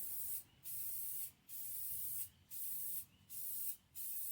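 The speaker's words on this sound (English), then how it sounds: "Well, it's spraying pretty good." Five bursts of spray paint hissing from a can onto a custom car subwoofer box outdoors, each lasting just under a second, separated by short pauses, close by.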